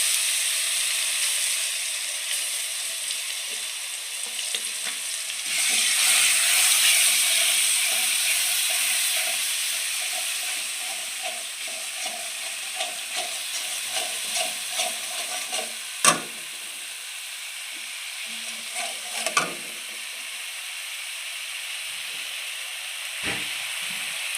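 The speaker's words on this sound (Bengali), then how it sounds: "এবার আমি তেলে দিয়ে দেবো ওই সেই পেস্টটা যেটা আমি বানিয়েছিলাম, পেঁয়াজ, আদা, রসুন একসাথে" Onion, ginger and garlic paste hitting hot oil for a fish curry gives a loud, steady hissing sizzle that gradually settles, with occasional clinks and scrapes of a spoon stirring in the pan and no voices.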